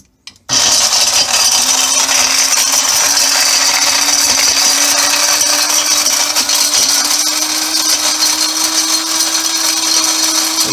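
A blender grinding a small batch that just covers its blades, running as one loud, continuous high-pitched whir with a steady motor hum for about ten seconds after a brief start.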